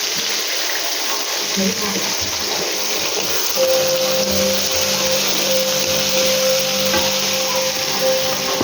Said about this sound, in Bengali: পেঁয়াজটা ভালো করে ভেজে ফিরছি।